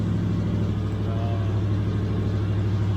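A GM truck's 454 big-block V8 with long tube headers and Flowmaster exhausts idles after a cold start, a steady deep, lumpy burble close by with a voice speaking briefly over it.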